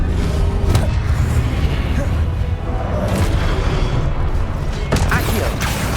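The Expelliarmus spell fires in the video game Hogwarts Legacy: a dense, booming magical blast with crackling mechanical layers and sharp transients over a constant rumble of combat effects, with a voice mixed in.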